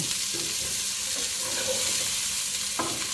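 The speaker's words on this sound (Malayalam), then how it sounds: "സവാള നല്ലതുപോലെ വഴന്ന് വരണം." Onions sautéing with salt in a pan, a steady close sizzle with occasional stirring scrapes, alone without talk.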